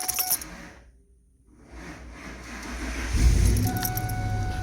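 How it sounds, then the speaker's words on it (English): Keys jangle briefly, then a 2001 Ford Expedition engine cranks and catches, settling into a steady low rumble that grows louder and holds. "All right, it started the truck."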